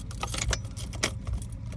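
Metal keys jangling against the ignition of a 1994 Jeep Grand Cherokee with a jammed lock cylinder, a few close, bright rattling bursts and clinks in quick succession.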